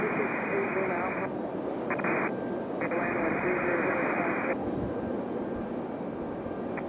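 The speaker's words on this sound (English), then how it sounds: "Our 757 coming in from Atlanta." A Boeing 757 airliner arriving at Raleigh-Durham airport makes a steady, broad engine roar in the distance, with a live commentator talking over it most of the time.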